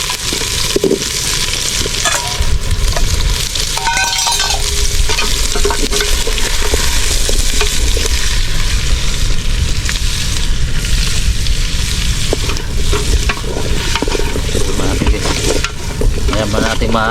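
Potatoes and carrots fry and get stirred in a pan, a steady loud sizzle running throughout with scraping stir strokes on top, close up, with no talking.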